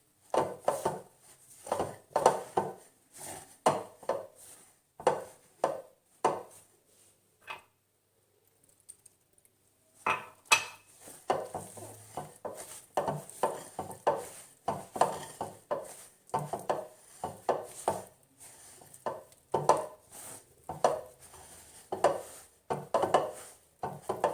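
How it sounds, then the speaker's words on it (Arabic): Pizza dough of flour and water is kneaded by hand in a continuous rhythmic run of soft slaps and thumps, with a brief pause in the middle before the steady working resumes. "هقعد كده اعجن فيها كده لمدة حوالي 10 دقايق لحد ما العجينة تلم معايا"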